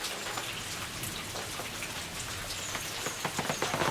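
Steady rain falls from a passing storm, a dense even hiss of drops on surfaces that swells slightly louder toward the end, with no voices.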